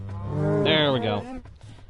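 A cow in Minecraft Bedrock Edition gives a single drawn-out moo from close by. The call is clear and loud and fades out near the end.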